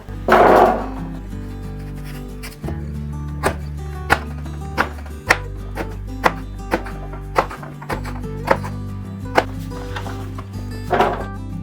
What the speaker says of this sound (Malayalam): അപ്പോൾ അങ്ങനെ നമ്മുടെ മാങ്ങയൊക്കെ കട്ട് ചെയ്ത് കഴിഞ്ഞു